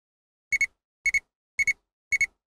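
An ANCEL PB100 automotive circuit tester gives its negative-polarity signal as four evenly spaced double beeps, sharp, clean and close, with silence between them.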